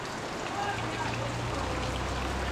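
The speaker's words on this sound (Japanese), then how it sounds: "やっぱりめちゃめちゃ大雨。" Heavy morning rain falls in Liberia as a steady, loud, dense wash of noise with no breaks.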